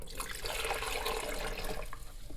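Fresh water pours into the reservoir of a freshly descaled Delonghi COM532M espresso and coffee machine, a steady close splashing trickle that runs throughout with no talk.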